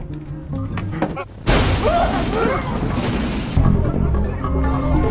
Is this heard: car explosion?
yes